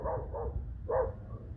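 Dog on a residential street giving a few muffled barks, with about three short woofs spaced unevenly and heard at a moderate distance.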